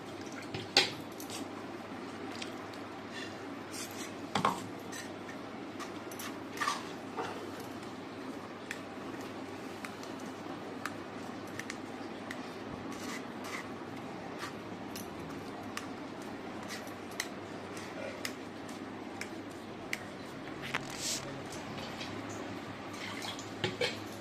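Coconut milk drips and trickles from ground coconut after water is poured over it, with scattered faint drips and small splashes against quiet background noise and no talking.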